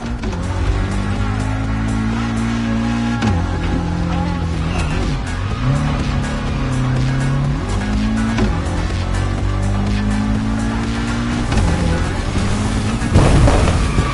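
Toyota GR86, a lightweight car with a naturally aspirated engine, racing in the game Motorfest: a steady, loud engine drone rises and falls through gear shifts, with tire noise underneath and a brief burst near the end.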